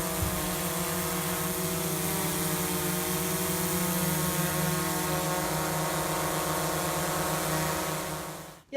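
A DJI Mavic Pro drone hovers in flight, its steady whining propeller drone holding an even pitch for several seconds before cutting off abruptly at the end, with no voices.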